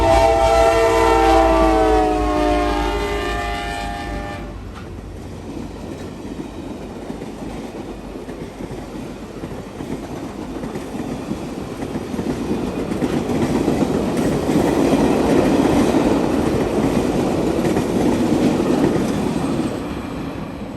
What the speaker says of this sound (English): A couple days later saw the CSX OCS train heading south on the CSX Scotsman Secondary at Kyle